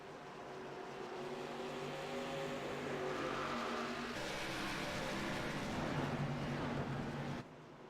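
Race cars roar around a track in a sustained, loud engine drone that rises as they pass, then drops away abruptly at the end.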